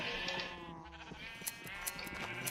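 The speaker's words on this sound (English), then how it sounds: "oh, there's just so many sheep" Sheep bleat repeatedly in the video game Minecraft, several short overlapping bleats close by over a steady background.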